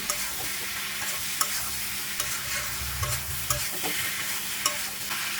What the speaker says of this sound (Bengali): লবণ মরিচ এগুলোকে দিয়ে এগুলো এদিকে একটু ভেজে নিই